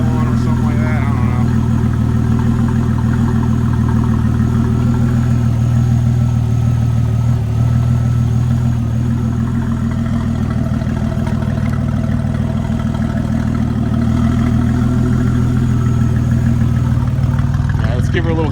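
A twin turbo Camaro engine idles through a warm up, a steady low rumble holding even for the full stretch with a slight rough pulse, close and loud, with no talk over it.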